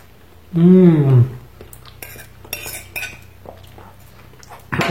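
A big spoon scraping and clinking against a dish, with a short loud ringing clink near the start followed by lighter scrapes and taps close up, and faint speech in the background.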